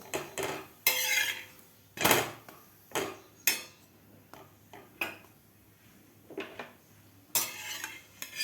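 Sweet jaggery-and-milk dashmi flatbread roasting on a pan, heard as a series of sharp metallic clatters and scrapes of a utensil against the pan, spaced irregularly, fairly close, with no talking.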